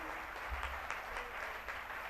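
A large crowd of devotees claps steadily and continuously at a Swaminarayan Chaitri Samaiyo scripture recital gathering at Vadtal Dham. The applause fills the hall as a dense, even patter with no voices.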